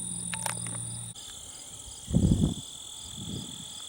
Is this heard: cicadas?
yes